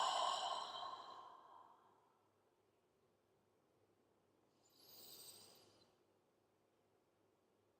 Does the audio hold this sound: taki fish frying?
no